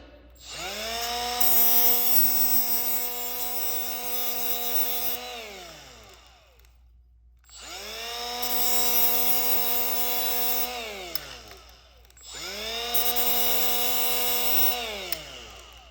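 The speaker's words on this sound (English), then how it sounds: "Now, again, this is a Jag 10 flap disc." A Jag 10 flap disc grinds a metal edge in three long passes, each rising to a loud, sustained harmonic whine that sags in pitch as the disc loads and then winds down, with brief pauses between passes.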